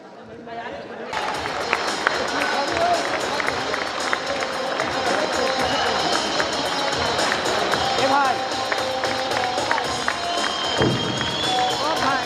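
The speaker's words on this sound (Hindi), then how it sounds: "Clapping should not stop." An audience at a college event in Gaya claps and cheers continuously, a dense, loud wash of crowd noise with scattered shouts and voices throughout.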